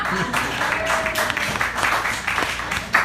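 Audience applause at a standup comedy show in a theatre, a dense wash of many hands clapping steadily for about three seconds, loud and close, with a slight swell near the end.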